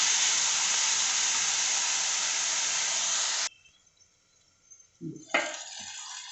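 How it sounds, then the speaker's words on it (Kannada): Tomato masala frying in a covered pan, with a loud, steady hiss and sizzle that cuts off abruptly, then near silence and a few clattering handling sounds before the sizzle briefly returns. "ಇದು ಇವಾಗ ಮುಚ್ಚಿಬಿಟ್ಟು ಒಂದು 5 ನಿಮಿಷ ಫ್ರೈ ಆಗಿ ಚೆನ್ನಾಗಿ ಟೊಮೊಟೊ ಎಲ್ಲ ಮ್ಯಾಶ್ ಆಗಬೇಕು"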